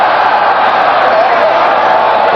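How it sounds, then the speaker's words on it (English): Stadium crowd at a 1978 NFL game between New England and Oakland, a dense, loud, continuous roar of many voices chanting, steady throughout with no clear break. "Crowd chanting,"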